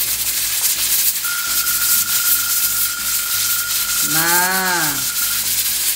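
A pressure cooker lid hisses while beef lung cooks: a steady, loud rushing hiss with a thin whistling tone that wavers and bends near the end.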